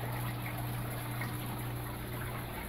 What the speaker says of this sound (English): finished draining out a bunch of water from my tanks for a water change